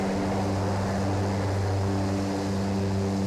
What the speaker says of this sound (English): I am going to pop out of the plane, so it is going to get loud again